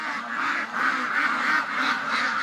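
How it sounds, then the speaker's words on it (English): Ducks quack in a rapid, continuous chorus close by, a flock of farm ducks being let out, with the calls overlapping in a busy, pulsing stream. "We're going to let the ducks out."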